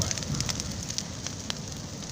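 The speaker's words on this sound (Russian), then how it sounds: "Сейчас опять огонь будет." A bonfire burns with a steady, dense crackle and scattered sharp pops over a low rumbling roar, close and fairly loud throughout with no talking.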